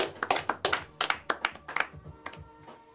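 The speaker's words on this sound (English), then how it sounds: "Another round of applause." A small audience claps in a scattered, uneven burst of separate hand claps that thins out and fades over a few seconds, with no talk over it.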